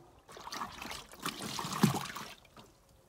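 Clothes being washed by hand in a basin of water with powdered soap, giving sloshing, trickling water and wet fabric being rubbed and squeezed, close and moderately loud, with no talking.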